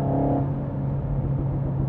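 A 2018 Renault Mégane RS with manual gearbox sends out a low, steady engine rumble that briefly rises on a downshift blip between 3,000 and 4,000 rpm, close and continuous.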